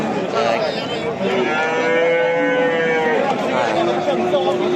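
Loud, drawn-out cattle moos at a livestock market in Kitob, Qashqadaryo, several overlapping lows rising and falling, with murmuring voices and general barnyard noise underneath.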